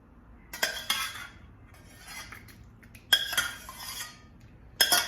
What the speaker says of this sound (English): So we're just gonna fold the pasta into the sauce.